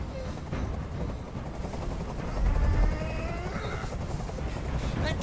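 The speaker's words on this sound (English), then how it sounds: "I can't stand that noise anymore. Tell that helicopter to get out of here." A helicopter in the video game Detroit: Become Human drones with a steady, rumbling rotor wash that swells louder for a moment midway, mixed with distant game noise.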